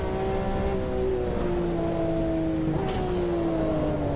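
A race car engine drones steadily at high revs in a racing video game on a wet track, its pitch shifting gently under careful throttle input, loud and continuous.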